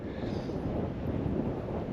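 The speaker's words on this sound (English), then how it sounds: "It is a windy day here in Paarl." A short burst of low, rumbling wind buffeting the microphone near Paarl Rock in Paarl, South Africa, steady and fairly loud throughout.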